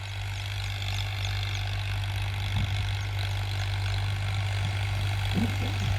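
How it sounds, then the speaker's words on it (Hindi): A Farmtrac 60 tractor engine running in a field hums at a steady low drone with a constant idle-like throb, moderately loud, accompanied by faint knocks and rustles. "ये फार्म ट्रैक शाही ट्रैक्टर माना गया है।"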